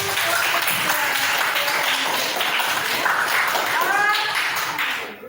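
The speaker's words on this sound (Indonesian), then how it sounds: "Oke, tepuk tangan untuk" Students clapping in a classroom during a lesson, a dense continuous patter of hand claps that holds steady for several seconds, with a few voices underneath, then fades out at the end.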